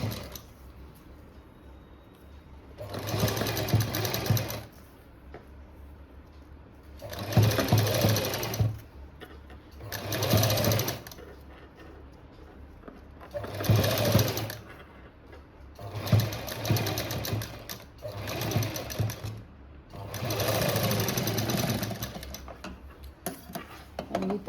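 A sewing machine stitches a seam on a 35-chest boat-neck blouse with potli buttons, running in about seven short bursts of rapid mechanical clatter separated by brief pauses, close and clear with no talk.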